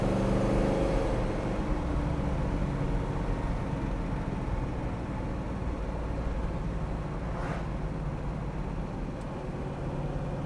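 A 1966 Pontiac Tempest drives and accelerates, its engine a steady low drone heard from inside the cabin, with road noise continuous throughout and the pitch rising slightly toward the end.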